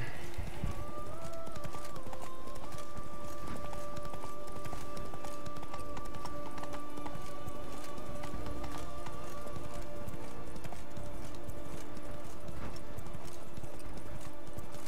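Hooves clip-clop in a fast, continuous rhythm as Roach, the horse in The Witcher 3, gallops along, with a thin musical tone running faintly underneath.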